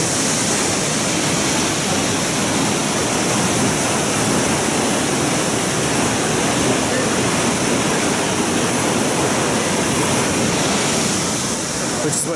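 A waterfall and stream feeding Hanging Lake in Colorado produce a loud, steady broadband roar of rushing water, close and unbroken throughout.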